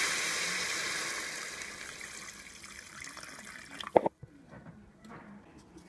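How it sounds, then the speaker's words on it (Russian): Cold water pours in a steady rushing stream into a pot of goulash, then cuts off with a few splashes and drips, close by in a home kitchen. "Добавляю сюда воду."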